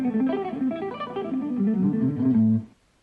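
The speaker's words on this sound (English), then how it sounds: "it's an exercise in triads, and it's also got a lot of parts where you have to pick one note on each string" A run of triads on electric guitar, picked one note per string, rippling through shifting shapes for about two and a half seconds before stopping cleanly, played alone.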